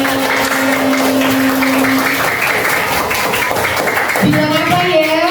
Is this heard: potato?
no